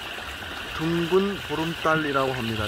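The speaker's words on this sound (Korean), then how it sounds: "옆에 물소리가 아주 경계운 물소리가 들리고 있습니다" Water from a nearby stream trickles and rushes as a steady background under a full moon on Chuseok night, while someone speaks clearly over it.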